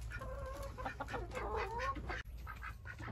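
Chickens clucking and murmuring close by inside a coop, with several overlapping bird calls over a steady low hum.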